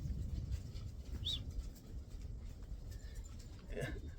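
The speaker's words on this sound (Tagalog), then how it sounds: "Bubugbuga na yung mga kalapati ko." Pigeons coo softly in the background over steady low rumble and faint movement, with a brief higher chirp partway through.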